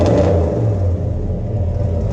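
Deep, loud rumble of a 1956 Chevy Nomad wagon's engine idling close by as a little gas is given, a steady low throb with a slight rise at the start.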